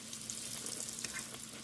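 Sweet potato pies frying in hot oil, a faint steady bubbling sizzle with a low background hum, brief and quiet without any talking.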